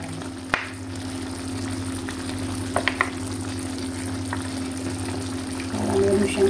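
Pork pata with apple vinegar simmering in a pot, a steady low bubbling and hiss with a few faint clinks, close and continuous.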